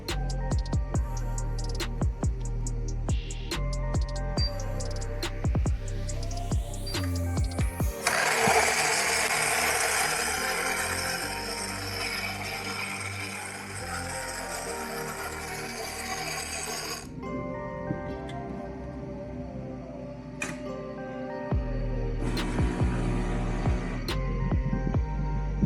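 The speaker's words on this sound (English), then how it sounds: "Okay, popping it on for the first time." Rebuilt Philips 3200 espresso machine with a replaced grinder chute: rhythmic mechanical clicking and pumping, then the grinder whirs loudly for about nine seconds before the ticking resumes, with another short grinding burst near the end.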